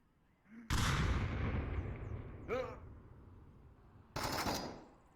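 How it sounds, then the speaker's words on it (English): Grenade blast in the VR shooter Onward, a loud, boomy explosion that rumbles and fades, followed by further sharp bursts, with a voice heard briefly in between. "Grenade."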